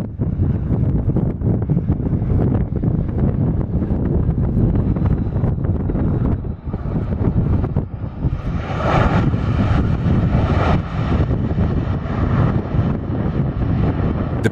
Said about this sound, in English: This Boeing 737 landing very hard before the touchdown zone due to wind shear.